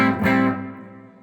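A strummed chord on an electric partscaster guitar with the pickup switched to humbucker mode, a thick, slightly distorted attack that rings out and slowly fades, with no voices.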